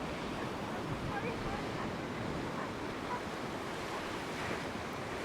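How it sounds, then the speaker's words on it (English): Ocean waves crash against the rocks at Peggy's Cove in a continuous loud roar of surf, mixed with gusting wind buffeting the microphone and no clear talking. "let's have a look at the waves crashing against the water"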